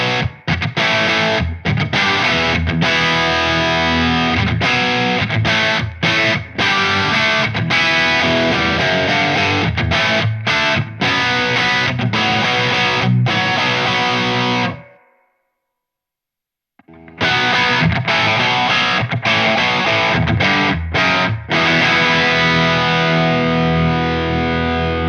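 Electric guitar on a humbucker pickup through a Wampler Pantheon overdrive pedal plays loud, continuous distorted chords and riffs, briefly stopping to silence for about two seconds before resuming.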